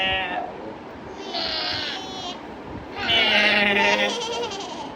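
A voice imitates a goat's bleat, giving two wavering, nasal 'meh' cries, the second longer and louder, with faint background noise between them.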